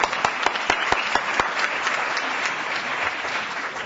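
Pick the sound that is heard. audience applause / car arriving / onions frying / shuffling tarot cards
audience applause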